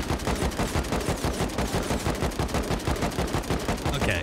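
Rapid machine-gun fire from an attack helicopter in a video game, a fast steady stream of evenly spaced loud shots running unbroken throughout.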